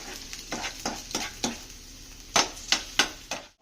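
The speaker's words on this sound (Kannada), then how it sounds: "ಈರುಳ್ಳಿ ಸ್ವಲ್ಪ ಹಸಿಸ್ ಮೇಲೆ ಹೋಗಿದ ತಕ್ಷಣವೇ ಮೊಟ್ಟೆ ಹಾಕ್ಕೊಂಡಿದ್ದಾರೆ" Eggs dropped into a pan of frying onions, giving a steady sizzle broken by a series of sharp stirring and scraping strikes, several close together and loud near the end.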